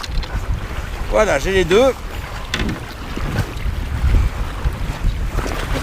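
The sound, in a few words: wind blowing during Greenland polar expedition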